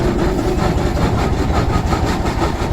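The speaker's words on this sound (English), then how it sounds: "belongs to David and his son, and it's a recent, not an original tractor made by Fosters of Lincoln" A Fosters of Lincoln steam traction engine, a modern-built tractor, passing at a steam rally in Sheffield, with a loud, close, low rhythmic chuffing and mechanical rumble throughout.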